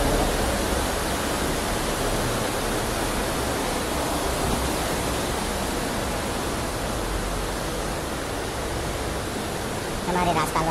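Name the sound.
flood water rushing at Tapkeshwar Mahadev temple after cloudburst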